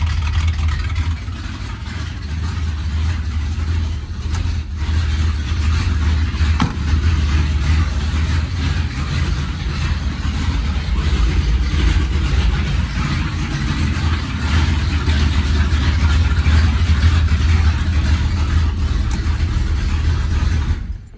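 A 1971 Ford F100 truck engine idling steadily after a cold start, a continuous low, rough rumble held at an even, fairly loud level throughout with no revving.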